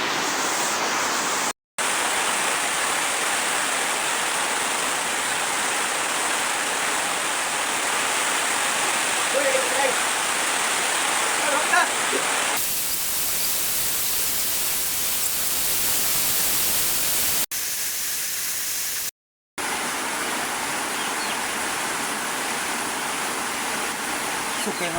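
Heavy typhoon rain pours in a steady, dense, hissing roar at dawn, loud and unbroken apart from a couple of brief dropouts and a shift in tone partway through.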